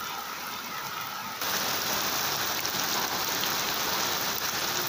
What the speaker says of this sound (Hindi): मैं आपको वेदर दिखा दूँ जी, बारिश की आवाज़ें